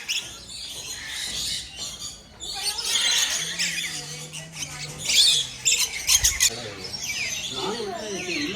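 Birds at Peeku Park in Yercaud give shrill squawks and chirps throughout, mixed with nearby voices talking and general park bustle.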